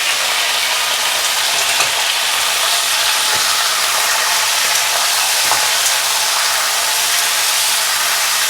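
Ingredients for chilli chicken fry in hot oil, giving a loud, dense, unbroken sizzle that stays steady for the whole stretch, with faint clicking stirs and no talk.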